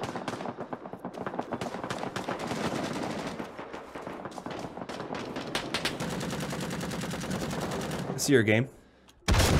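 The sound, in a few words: grease gun gunfire in Rising Storm 2: Vietnam video game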